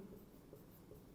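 Chalk or a marker scratches across a board in a teaching session, a faint, brief scraping of a few short strokes with no talk over it.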